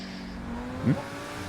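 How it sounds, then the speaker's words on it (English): A steady car engine in GTA Online, a Progen Luiva, drones, swelling briefly into a louder rev partway through before settling back to a smooth hum. "like how the engine sounds"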